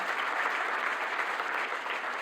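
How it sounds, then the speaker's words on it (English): A large audience at the closing plenary of the EOSC Symposium 2024 applauds an organizer, a thick, continuous roar of clapping hands held at a steady level from start to finish. "I truly believe that Pihla deserves a massive applause"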